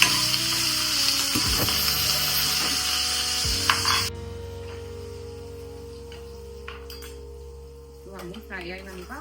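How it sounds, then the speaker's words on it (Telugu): Chopped vegetables frying in oil for a mango dal give a bright, close sizzle with a few clinks of a utensil, then the hiss cuts to a quieter background, and a voice briefly joins near the end. "వీటన్నిటిని ఫ్రై చేయాలి."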